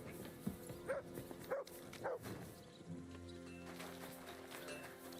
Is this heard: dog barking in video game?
yes